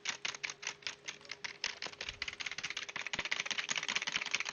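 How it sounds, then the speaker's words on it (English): Rapid, dense computer keyboard typing, loud and close, with a steady clatter of keystrokes that grows busier toward the end, with no talking over it. "This is what keyboard sounds like."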